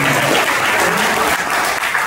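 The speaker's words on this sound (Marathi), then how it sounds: "एका जोरात टाळ्या वाजवून" A gathering of devotees and camp students bursts into loud, dense applause, many hands clapping together continuously and close, with no break in the sound.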